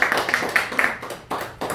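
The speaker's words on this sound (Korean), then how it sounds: "박수" A small crowd at the close of a press conference gives brief, scattered applause: a quick patter of hand claps for under two seconds, fairly close.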